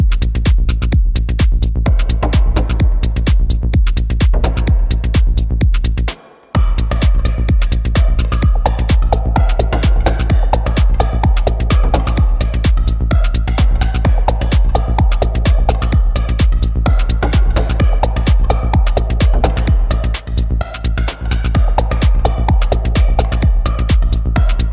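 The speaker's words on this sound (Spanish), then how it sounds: "esta fue nuestra pequeña base para Minimal Techno y suena así." A minimal techno beat built in FL Studio pounds steadily with a dense kick and hi-hat pulse and a faint mid-range synth line, loud and continuous apart from one brief dropout.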